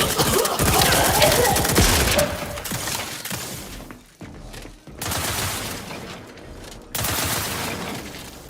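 Dense volleys of gunfire and shattering crashes from the sci-fi shooter The Outer Worlds 2, loud and sustained with a few brief lulls, and no voices.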